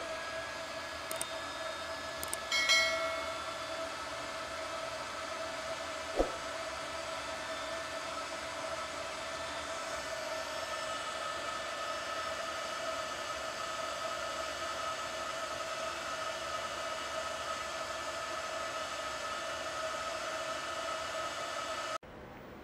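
An Epilogue laser engraver works on a cup, giving a steady, even machine whir with fan-like hiss throughout, broken only by a couple of brief clicks near the start.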